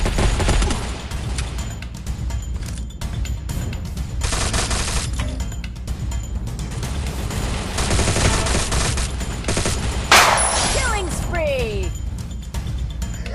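Rapid bursts of gunfire from a shooting video game played with no weapon skins, dense and loud through most of the stretch, with a sharp crash or explosion near the end, under an excited player's voice.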